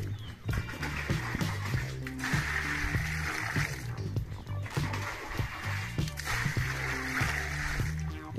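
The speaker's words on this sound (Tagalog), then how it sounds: "lagyan mo ng tubig ni Tatay Rayot mga katatay." Water is poured and splashed onto clothes being hand-washed, making wet sloshing and splattering sounds that come in uneven bursts, up close.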